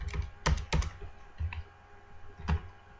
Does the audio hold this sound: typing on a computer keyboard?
yes